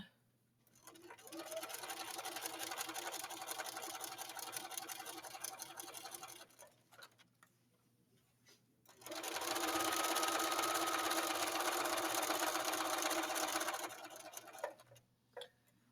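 A sewing machine runs in two sustained bursts, sewing short legs together along a 5/8 seam allowance, loud and steady with a brief pause between the runs and no talking.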